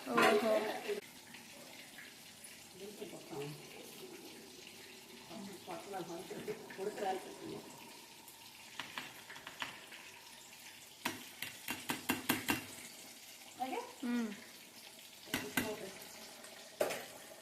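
Water at a boil in a pot of prawns, bubbling and sizzling under intermittent talk, with bursts of clattering stirs and splashes toward the end.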